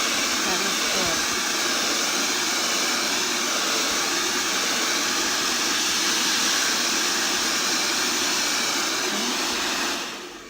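Hair dryer blowing over a fresh painting of the sea with a boat, a steady loud whooshing whine running unbroken for about ten seconds before cutting off abruptly, with faint talk beneath it.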